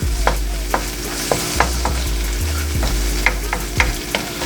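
Diced ginger sizzles steadily in a hot pan for Filipino Bicol Express with pork, while a utensil scrapes and taps the pan every half second or so, loud and close.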